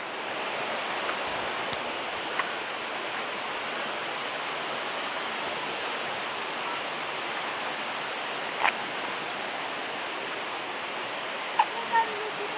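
Lalawgon Falls roaring steadily as a dense, unbroken wash of falling water, loud and close, with only a few faint clicks over it and no pauses.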